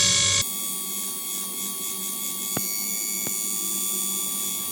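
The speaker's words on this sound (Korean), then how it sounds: "그래서 이런 부분은 드릴로 조금만 구멍을 넓혀줄게요." A small drill widening the wrist-peg holes in Medicom Mafex Batman Hush action figure hand parts, a steady high whine up close with two brief sharp bursts partway through.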